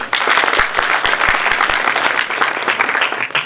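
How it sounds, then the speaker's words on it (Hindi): Students in a university hall at CRSU Jind burst into applause, a dense, even clapping from a sizable audience that carries on for several seconds without talk. "ओ चलो इसके नाम पे ताली बजा दो।"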